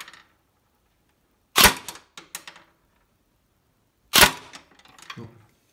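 An ASAR-15 carbine electric airsoft rifle fires over a chronograph: two sharp, loud cracks a few seconds apart, each followed by quick mechanical rattles, with silence in between.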